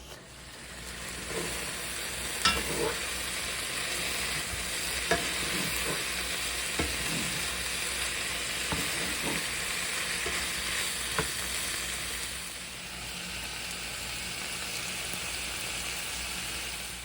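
White wine poured into a hot pan sets off a steady, continuous sizzle and hiss that runs throughout, with a few sharper clinks and scrapes from stirring scattered over the top; no one speaks.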